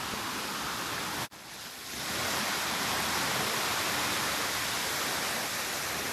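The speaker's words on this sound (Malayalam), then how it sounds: "നിങ്ങൾക്ക് സൗണ്ട് കേൾക്കാമോ കാട്ടരുവിയുടെ?" A forest stream rushes steadily in the Ponmudi hills, a dense close wash of flowing water with one brief dip before it resumes at full strength.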